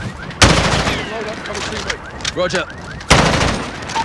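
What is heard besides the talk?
gunfire in the Call of Duty Modern Warfare video game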